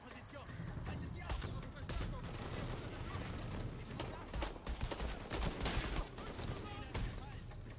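Rapid gunfire from a weapon in Shadow of the Tomb Raider, repeated sharp shots and bursts that run all through, moderately loud, with someone talking over them.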